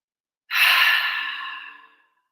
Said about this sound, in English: Go ahead and make a little sound with that breath.